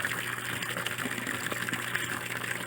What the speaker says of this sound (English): I'm gonna let this water run for about an hour like it is, and that'll help oxygenate this first tank